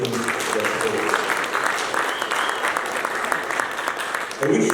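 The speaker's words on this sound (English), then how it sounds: "I request you to give the UAE government a round of applause in appreciation of their support" A conference audience at the 2nd Uganda Tourism Trade and Investment Forum applauds the UAE government, with steady, dense clapping throughout and a brief voice at the end.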